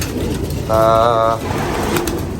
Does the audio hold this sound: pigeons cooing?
yes